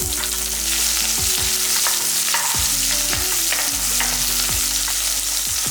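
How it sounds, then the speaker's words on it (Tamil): Small onions and crushed garlic frying in hot oil for egg gravy, a loud, constant close-up sizzle with repeated sharp scrapes and clinks of a stirring spoon against the pan. "1 கைப்பிடி அளவுக்கு சின்ன வெங்காயம், அதையும் போட்டுக்கலாம்"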